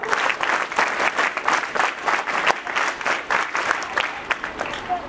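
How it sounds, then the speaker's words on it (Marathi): An audience at a retirement felicitation ceremony claps together in a steady, rhythmic beat, loud and continuous throughout, with faint crowd murmur beneath. "त्यांच्यासाठी पण तुम्ही आज मुद्दाम सगळ्यांनी टाळ्या वाजवा"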